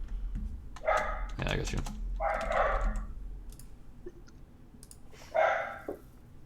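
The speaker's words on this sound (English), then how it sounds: "My dogs are pissed off" Dogs bark in a few loud bursts, with someone talking and computer keys clicking nearby.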